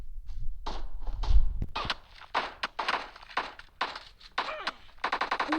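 Rapid gunfire from the PUBG battle royale game, a dense burst of repeated shots and impacts following an initial low thud, with a fast machine-gun-like rattle toward the end.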